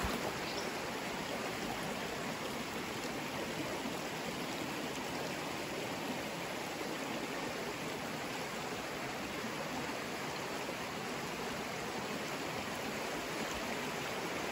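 A creek flows steadily past a bank overgrown with stinging nettle, giving a continuous broadband rush of running water that stays even and unbroken throughout, with no voices.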